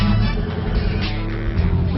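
A Cheetos-themed Camaro drives along with a dense, close engine and road drone from inside the cabin, steady throughout with no speech.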